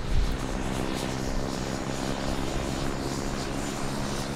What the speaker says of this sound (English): that Milestone aircraft has just arrived here in Portsmouth to be added to the PlaneSense fleet